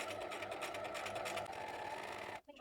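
A sewing machine runs forward in a straight stitch along fabric, a steady close rapid whirring and ticking that continues unbroken before stopping abruptly near the end.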